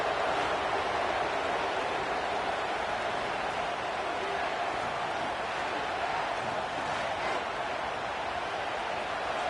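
Stadium crowd in a college football video game (Notre Dame vs Wisconsin), a steady loud roar of massed voices holding evenly throughout with no breaks.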